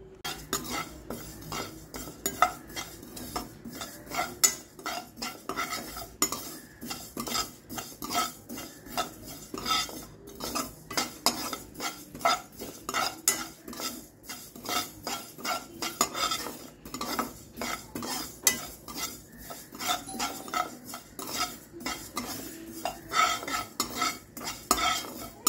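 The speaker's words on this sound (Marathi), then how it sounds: "आपण तीळ भाजून घेऊया खरपूस अशी।" Sesame seeds are stirred and dry-roasted in a hot kadhai, with a spoon scraping and clinking rapidly against the metal in a steady, busy rhythm and faint sizzling underneath.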